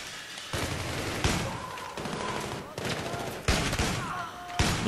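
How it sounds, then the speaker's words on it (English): Shotgun blasts in the Battlefield 3 video game ring out as several sharp, loud reports spaced about a second apart over a busy battle backdrop. "Shotgun rain."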